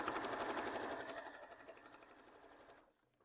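Sewing machine running a wavy decorative stitch, a fast steady mechanical chatter heard close and alone, slowing and stopping near the end.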